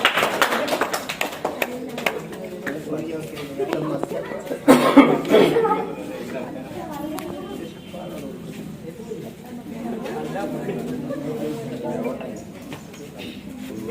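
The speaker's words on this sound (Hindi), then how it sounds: "ताली बजाना जोर से।" Audience clapping at a school gathering for Sardar Patel's birth anniversary at an inter college in Bilwar, Jaunpur, a dense steady patter of many hands that swells briefly, with voices and coughs mixed in throughout.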